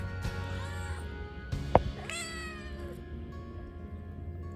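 A cat meows several times, close and clear, with rising and falling cries over a low background hum.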